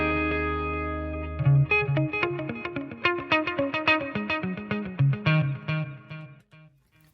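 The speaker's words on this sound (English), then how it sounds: "Bit of reverb and delay." An electric guitar through a BOSS Katana MK2 amplifier sustains a chord, then plays a run of picked notes drenched in reverb and echoing delay, ringing out at the end.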